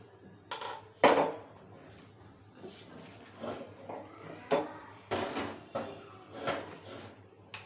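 Creamy saucy cooked macaroni being served from a pot onto a dish, with faint, irregular clinks and scrapes of a spoon against metal and crockery in a quiet kitchen.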